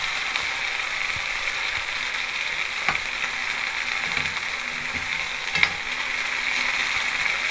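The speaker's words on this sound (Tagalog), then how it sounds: "Nilagay na niya yung sardinas. Sardines. Tapos, halo-halo sa gisa." Sardines sautéing in a pan, a steady broadband sizzle with a few sharp clicks and scrapes of stirring, close and continuous without talk.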